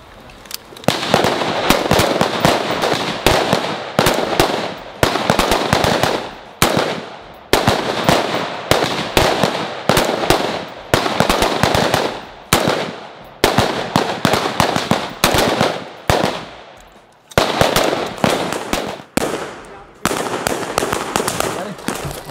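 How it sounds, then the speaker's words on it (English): Sharp rifle shots from AR-15s at an outdoor training range crack out in rapid, steady succession, loud and close, with many reports packed across the stretch and little pause between them. "I want you guys to do 5 shots from the low ready up"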